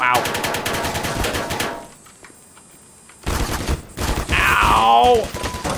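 Turret machine gun fire in the Black Mesa game, two loud rapid bursts separated by a brief lull, the second ending with a pained groan.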